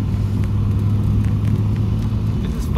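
Nissan R31 driving in the rain, a steady low engine and road rumble heard from inside the cabin, with faint intermittent ticks and taps over the constant drone.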